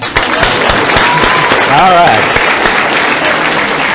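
An audience at a talk bursts into loud, dense applause that fills the room and holds steady throughout, with a few voices calling out over the clapping.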